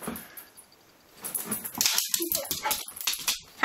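A dog whimpers and yips indoors in a short string of high, whiny cries that grow louder partway through, close to the recorder, with a few faint voices around it.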